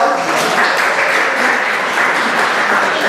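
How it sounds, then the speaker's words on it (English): Loud, dense applause from a live show audience rolls on steadily for about three seconds, unbroken clapping with no clear speech over it. "Give her a big round of applause."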